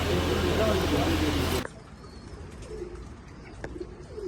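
Pigeons brought in from Oman and Dubai coo softly after a loud burst of broadband noise cuts off abruptly, leaving faint, intermittent low calls over a quiet background.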